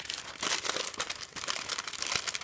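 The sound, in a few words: adhesive tape being applied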